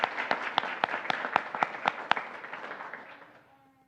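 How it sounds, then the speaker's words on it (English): A ladies' performance team gets applause from a school board meeting audience: a burst of sharp, distinct claps over a broad clapping wash, fading steadily over about four seconds, with no talk over it. "Please give our ladies' performance team a big round of applause"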